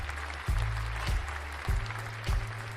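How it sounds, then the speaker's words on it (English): Faint applause during a talk show, a soft wash of clapping under low-pitched rhythmic thumps that recur about every half second. "That applause was for everybody listening and everybody that tunes into the MidWeek show"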